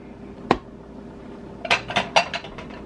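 Metal cookware clinks and scrapes in a home kitchen as a pan is buttered: one sharp clank, then a short cluster of quick rattling knocks, fairly close and moderately loud.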